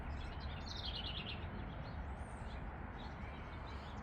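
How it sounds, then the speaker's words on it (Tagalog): Several birds chirp and tweet faintly in short trills over a steady low background rumble, with no talking. "Maingay yung mga ibon"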